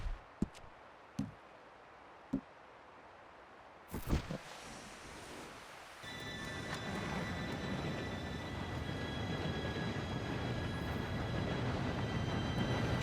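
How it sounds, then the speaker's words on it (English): A train rolls in within Red Dead Redemption 2, rising from a few sharp knocks into a loud, steady rumble with faint squealing tones that builds and holds near. "Train should be here any minute now."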